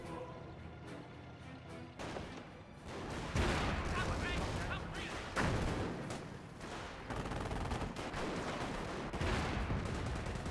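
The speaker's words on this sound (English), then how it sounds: "Sniper firing away." A Company of Heroes battle: sniper shots and gunfire crack sharply over a dense bed of distant artillery and rumbling combat, with a commentator talking throughout.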